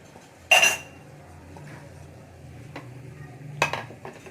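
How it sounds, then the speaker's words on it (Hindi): Boiled spaghetti tipped into a pan of softened cooked vegetables, two sharp metallic clanks of utensil on pan a few seconds apart, with faint scraping and a low background hum in between. "अब हम इसमें बॉईल की हुई स्पैगेटी डालेंगे।"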